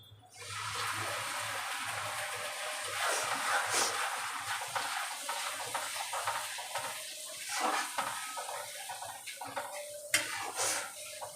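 Steady sizzling and bubbling in a hot pan after a paste of poppy seed, cashew, tomato and green chilli goes in, with stirring clinks and scraping on top of a constant frying hiss, heard close and without talk.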